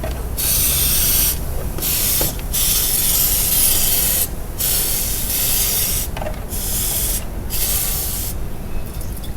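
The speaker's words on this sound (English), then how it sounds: "So what I do is just spray on." Loud, close spray hissing of air conditioning cleaner onto a motorcycle radiator in long continuous bursts with brief pauses between, steady and broadband, no voices.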